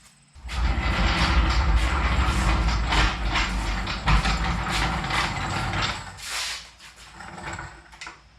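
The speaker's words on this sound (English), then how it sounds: "So I'm going to go ahead and jack this wheel up off the ground." Car jack raising a wheel off the ground, a continuous mechanical ratcheting and grinding with a rapid clicking rhythm that runs for several seconds, close and fairly loud, then tapers off, no speech.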